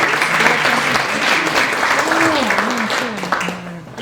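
Steady, full round of applause from a morning community meeting audience as a man comes up to place the flag, dense claps at moderate distance with a voice or two briefly rising over the clatter.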